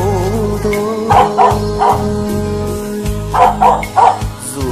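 A dog barks in a few bursts of yips over a backing of sung music, the barks moderately loud and close, repeating in two short clusters.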